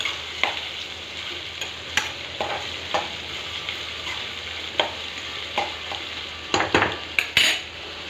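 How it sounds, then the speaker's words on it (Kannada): Chopped green chillies, curry leaves and onions fry in oil for avarekalu uppittu, a steady close sizzle broken by repeated spoon scrapes and clinks against the pan, with a cluster of louder knocks near the end. "ಇದು ಚಲೋ ಹೊತ್ತಿನಾಗ ಸ್ವಲ್ಪ ಫ್ರೈ ಆಗಿದೆ ಎಣ್ಣೆ ಒಳಗೆ"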